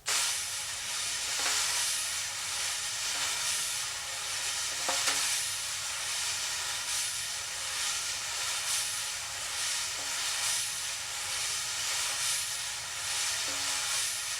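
Jazz wire brushes swirling in circles and ovals on a snare drum, a soft, continuous sweeping hiss with faint regular accents where the brush changes direction, heard alone without talk.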